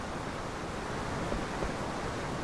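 Steady broadband rush of falling water and rain in a Final Fantasy IX game scene, a continuous even wash with no voices and no distinct events.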